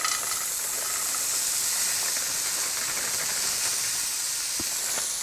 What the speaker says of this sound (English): Next, I'm gonna add some frozen peas.